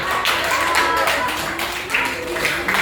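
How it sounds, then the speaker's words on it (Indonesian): A classroom of students claps hands, a brief burst of fairly close, uneven clapping and tapping with some background chatter. "Bagus, tepuk tangan"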